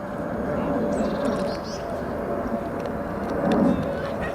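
An airplane passes overhead, a broad, steady engine roar that swells and fades slightly, with faint voices and birds in the background.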